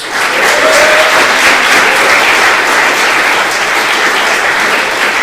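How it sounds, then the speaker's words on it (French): Loud, dense applause from an evening audience at a student debate contest, many hands clapping in a steady, unbroken roar that barely thins over five seconds. "Je vous demande de les applaudir ce soir s'il vous plaît."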